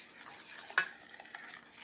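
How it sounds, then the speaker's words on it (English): A spoon stirring vanilla and butter into dairy-free chocolate icing in a pot just off the stove, soft scraping strokes with one sharp knock against the pan, heard close and alone. "And I need to stir that in now."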